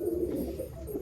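Malwai pigeon from Baruipur cooing, a low continuous throaty coo filling a brief moment, close and fairly loud.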